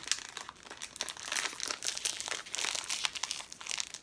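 Plastic packaging bags from plush toys crinkling and rustling continuously during an unboxing, close to the microphone and fairly quiet, with no talking.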